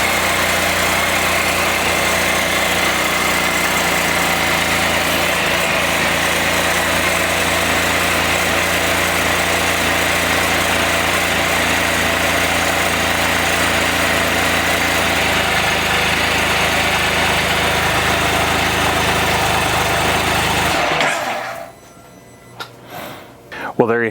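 A Can-Am Spyder engine idles steadily right after its first start following reassembly, with a possible exhaust leak, running loud and continuous for about twenty seconds before cutting off abruptly, leaving only faint handling noises.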